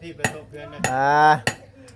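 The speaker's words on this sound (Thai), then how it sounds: "ตอกตะปูใส่ให้มันบ่" Nails hammered in Thai craftwork, three sharp metallic strikes spaced apart, one ringing out with a sustained tone, close and loud.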